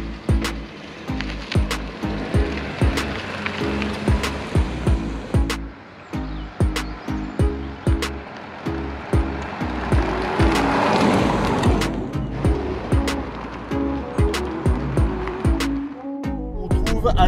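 An Alfa Romeo Tonale with the 1.5-litre 130 hp engine driving on the road, heard from inside as a steady engine and road drone with regular thumps from the road surface, and the engine rising in the middle stretch.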